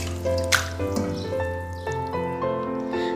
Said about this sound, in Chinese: 把鱼肉和鱼骨给它洗干净